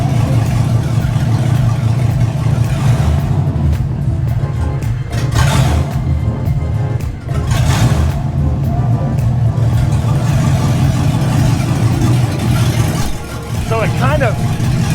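An LS-swapped Jeep Grand Wagoneer engine runs loud and close with a deep, continuous rumble that swells with revs, under someone talking.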